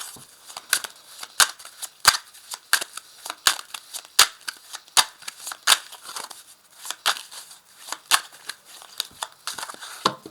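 Tarot de Marseille cards are cut and shuffled close up, making rapid, irregular crisp snaps and papery flicks that continue throughout, with no talking.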